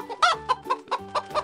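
A chicken in a garden clucks in a quick series of about six short, throaty calls at an even rhythm, close and clear with no talking.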